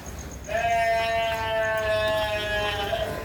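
Dairy cattle at Majapahit Abadi Farm in Jakarta low in a single long, drawn-out call over steady farmyard background noise.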